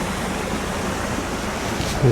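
A waterfall beside the Reşan river gives a steady, close broadband rush of falling water that runs unbroken for the whole two seconds and swells slightly at the very end.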